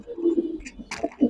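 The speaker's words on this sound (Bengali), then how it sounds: "এটা দেখে ভাই, সিলভার প্যাটার্নের কবুতর" A silver-pattern Giribaz pigeon coos close by in a short, throaty bout, a low rolling note followed by a couple of sharper bursts, with nobody speaking.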